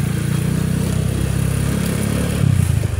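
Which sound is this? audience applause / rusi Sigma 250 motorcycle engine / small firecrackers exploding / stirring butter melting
rusi Sigma 250 motorcycle engine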